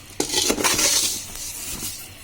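A utensil scrapes and clinks against a pan while vermicelli is stirred in ghee for zorda semai, a close metallic rasp with a soft sizzle underneath, brief and steady without speech.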